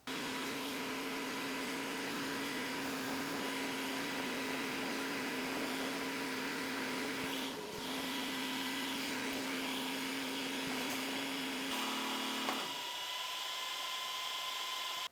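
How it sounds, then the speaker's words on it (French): A machine cutting out a wooden jig template for homemade laminated drawer handles, making a steady loud whining drone with a constant tone that drops away abruptly near the end, no talking. "D'abord, la machine a coupé le petit bout là, ça s'est bien passé. Ensuite, elle a découpé le gabarit, parfait."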